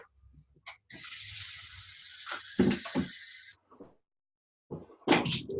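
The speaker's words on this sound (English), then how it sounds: "You'll notice that it pours nicely because there is a little bit of a pour spout on top of the measuring cups." Water poured from a measuring cup with a pour spout while mixing batter with eggs, a steady splashing stream lasting a few seconds, followed by brief clinks and handling sounds.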